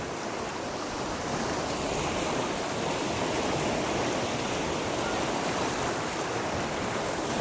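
The Shimsha river flows near Tore Shettalli, making a steady broad rushing wash of water that stays even and fairly soft throughout, with no talking.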